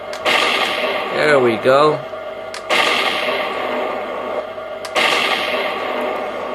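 Cannon smoke and flash unit firing: a short burst with a rising-falling whine, then sharp, loud bangs or pops, each followed by a hissing rush, with someone talking between them.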